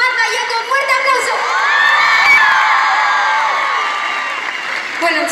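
An arena audience at a concert in Alicante screams and cheers for the drummer, the loud high-pitched shouting rising to a peak in the middle and then tapering a little before surging again at the end.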